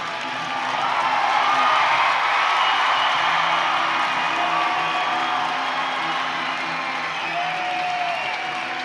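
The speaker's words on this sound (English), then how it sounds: "And the crowd goes wild." A hockey arena crowd roaring and applauding after a fight on the ice, a loud sustained wash of cheering and clapping that fills the whole stretch, with a commentator's voice faintly underneath.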